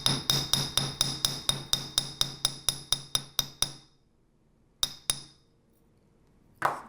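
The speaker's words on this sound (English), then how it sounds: "I'm just going to hammer the base a little bit. So this is work hardening the wire" A small hammer strikes the base of a wire earring component to work-harden it, giving about fourteen quick, evenly spaced metallic taps that ring briefly. After a pause come two more taps, then a final softer knock.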